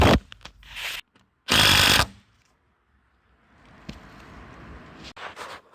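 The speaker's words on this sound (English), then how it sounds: "that is a Dewalt impact driver, as demonstrated by me" A Dewalt impact driver on its third speed setting drives heavy-duty fixings for a fence in short, loud hammering bursts separated by silence, followed by quieter mechanical rattling.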